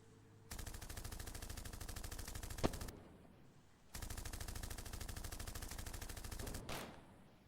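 Enemy automatic gunfire in a video game, two long sustained bursts of rapid, loud shots separated by a short gap, with a sharp crack partway through the first burst.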